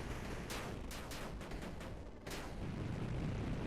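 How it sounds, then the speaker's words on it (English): Artillery fire in the strategy video game 8-Bit Armies: a run of sharp, booming shots in quick irregular succession, with a brief lull before another burst and a continuous rumble of battle. "we do see the artillery is finally coming out"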